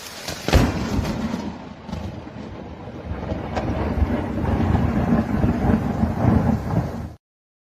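A lightning strike blasting apart a tree gives a sharp loud crack followed by deep rumbling and roaring wind-like noise that swells and then cuts off abruptly, with no voices.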